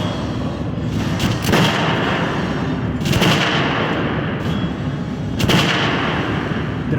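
Gunfire at a shooting range in Metro Last Light, sharp loud shots ringing out at irregular intervals, each with a short reverberant tail over a steady low background rumble.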